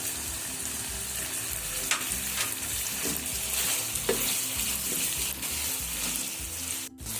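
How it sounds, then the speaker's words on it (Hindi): Vegetable filling for samosas, with vinegar added, sautés in a pan: a constant loud sizzle runs throughout while a utensil stirs and scrapes in regular strokes. "इसको हम थोड़ी देर और भून लेते हैं।"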